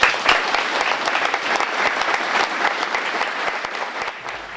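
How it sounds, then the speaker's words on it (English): Sustained audience applause at a 2015 chamber of commerce awards gala, dense and steady clapping from a full room that tapers slightly toward the end, with no speech over it. "Please join me in a round of applause to recognize the efforts of these community-minded individuals"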